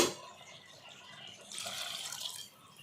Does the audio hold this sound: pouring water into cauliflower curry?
yes